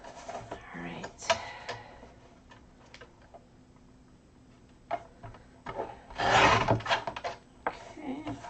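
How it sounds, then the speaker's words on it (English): Stamped card paper is trimmed down in a craft session, giving short scratchy rubs and cutting strokes, soft ticks and one longer, louder swish near the end, all close-up with a person talking over the work. "just trimming this down because I know I'm going to be matting it"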